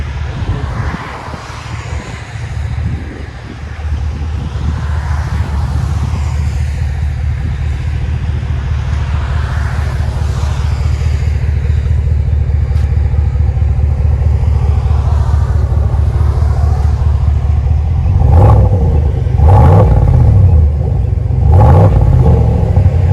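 A GMC Sierra Denali with a 6.2L V8 and aftermarket exhaust drones loudly as heard from inside the cab, a steady deep rumble that builds, then three sharp rev blips near the end.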